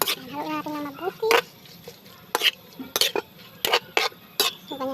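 Chicken gizzard, liver and heart are stirred in a pot for a home-style string bean dish, with sharp, repeated scraping strokes of a utensil against the pot over a low simmer; a voice talks briefly at the start.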